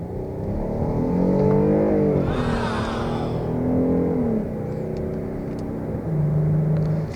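A Kia Carnival's 3.5-litre V6 gasoline engine accelerates from inside the cabin, its rising engine tone climbing through gear changes, smooth and moderately loud, with no one talking.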